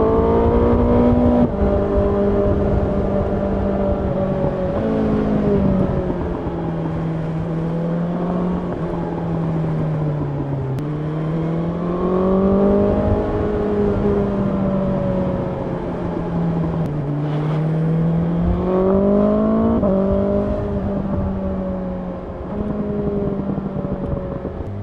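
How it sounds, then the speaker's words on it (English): A 2020 BMW S1000XR motorcycle engine drones steadily in second gear, pitch rising and falling smoothly as it revs and eases off, loud and close throughout. "Listen to this engine in second."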